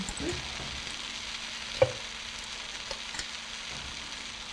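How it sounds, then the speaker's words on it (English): Leeks and bean sprouts stir-frying in a hot pan, a steady close sizzle with occasional scraping stirs and one sharp clack of a utensil against the pan. "Now the leeks are soft, we put in some bean sprouts."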